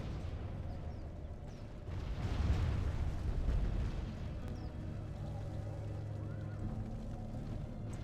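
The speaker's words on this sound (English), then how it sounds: "I love the cannons." Cannons fire in a Medieval II Total War siege battle, heavy muffled booms and rumbling blasts swelling in the middle over a continuous low battlefield din, moderately distant.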